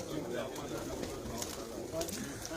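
Pigeons cooing on a rooftop in Jhelum, soft low coos under a steady wash of outdoor noise and distant chatter, faint and continuous throughout.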